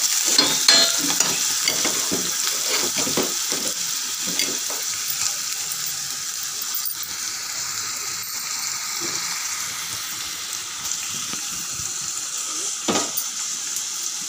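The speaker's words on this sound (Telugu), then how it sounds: "ఉల్లిపాయలు మొత్తం వేసేసి ఇలా బాగా వేపాలి" Sliced onions frying in hot oil in a pan while being stirred, a steady, fairly loud sizzle and hiss with scraping stir strokes clustered near the start, no voices.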